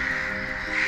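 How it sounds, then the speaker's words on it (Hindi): Crows caw in an outdoor spot along a train journey between Daltonganj and Hazaribhag in India, a steady overlapping chorus of harsh calls that stays fairly loud throughout with no talking. "पक्षी के साउंड आपको सुनाई दे रहे होंगे।"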